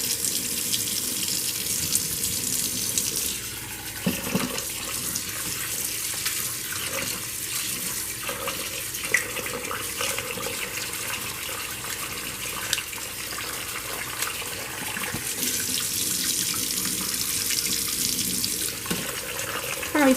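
Tap water runs steadily into a sink over rice being rinsed in a bowl for jollof rice, a continuous close splashing hiss with small shifts as the rice is swished.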